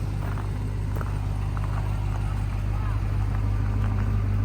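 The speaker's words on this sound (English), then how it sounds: "It's got a great sounding exhaust." A 2022 Ram 1500 TRX pickup truck idles nearby with a deep, steady exhaust rumble, holding constant throughout with faint clatter on top.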